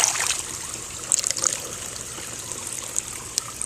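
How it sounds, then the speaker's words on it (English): Water spills out of garden pots beside a backyard waterfall, a light trickling and dribbling with a few brief splashy gushes, close by and with no talking. "So what I'll do is I'll spill some water out of here"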